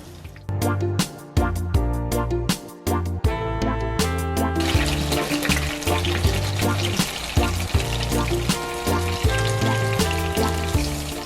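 Ripe plantains frying in oil give a crackling sizzle that sits partly under loud background music, with the spitting growing busier in the second half.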